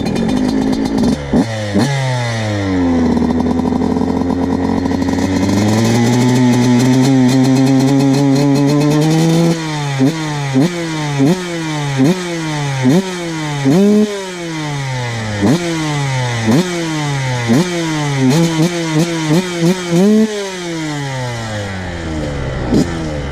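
A motocross bike engine close by idles, then revs up and drops back again and again in sharp, buzzy bursts.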